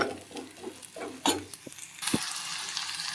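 Onions frying toward golden brown in a pan as a cooking step for palak paneer, with soft sizzling and a few stirring scrapes and knocks, then a brighter steady hiss, fairly quiet and without talk.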